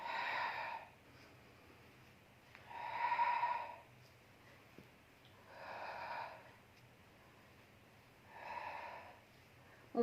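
Slow, steady breaths during a Pilates exercise, with four distinct airy exhales and inhales spaced a couple of seconds apart, close and fairly soft, alone with no talking.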